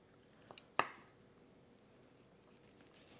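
A knife cuts through tender smoked brisket, giving one soft, wet squishing slice with a few faint moist taps just before it, close and quiet in an otherwise still kitchen.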